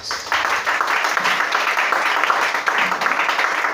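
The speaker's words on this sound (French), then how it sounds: "Acclamez le Seigneur Jésus" A church congregation applauds during a worship service, dense sustained clapping from many hands filling the room for a few seconds, steady and fairly loud throughout.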